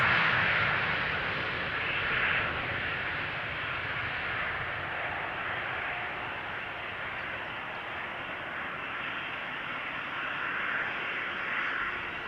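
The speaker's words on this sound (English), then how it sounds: "I hear the next KLM Embraer already to the right of me, also coming this way." A KLM Embraer jet approaching at Amsterdam Schiphol, its engine roar a broad steady rumble and whine that swells slightly, holding for the whole stretch, with no voices.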